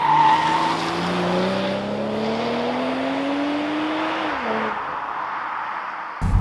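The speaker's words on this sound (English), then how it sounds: "I think it's probably one of the best sounding, if not the best sounding at the moment, BMW engine." BMW M240i engine accelerating hard, its pitch climbing smoothly through a gear for several seconds before a quick shift, loud and close.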